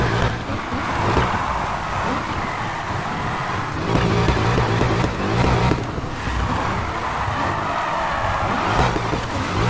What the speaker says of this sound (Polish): Spróbujmy już nim teraz coś podriftować.